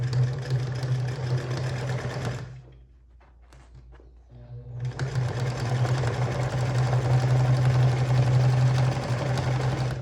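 Sewing machine stitching a double-sided fabric placemat, running in a steady loud whir that pauses for about two seconds and then resumes, close up with no talking.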